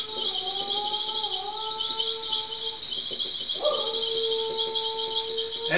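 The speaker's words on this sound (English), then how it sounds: "her tick birds were greatly disturbed" Whistled bird calls, long sliding tones and short chirps, sound close and clear over a bright steady insect-like hiss.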